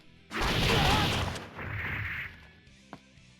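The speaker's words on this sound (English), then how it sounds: "You can fire your shotgun 3 times and it builds up a lot of heat" ROBO-KY's shotgun fire in Guilty Gear Strive: a loud blast with a long roaring, hissing burst, a second fainter burst, then a brief sharp crack near the end.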